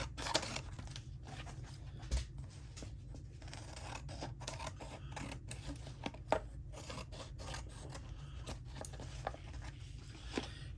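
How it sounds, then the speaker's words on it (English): Small craft scissors trim paper for a botanical apothecary journal, with repeated soft snips and rustles spaced irregularly over a low steady hum, close and quiet. "they seem to cut pretty well for doing my fussy cutting or my trimming like this"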